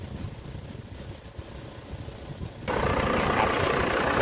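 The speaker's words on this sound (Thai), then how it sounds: "ผมไม่ได้เร่งเครื่องนะครับผมปล่อยเครื่องลอยๆไว้นะครับ" A steady low engine rumble idles unevenly, then a louder broadband hiss of rushing water joins it partway through as water is pumped out through a filter cloth, continuing to the end.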